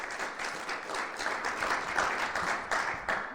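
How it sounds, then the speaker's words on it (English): A live audience at a CONEXPO panel applauds the guests, steady dense clapping that holds for a few seconds, moderately distant and even in level, with no talking over it. "Round of applause."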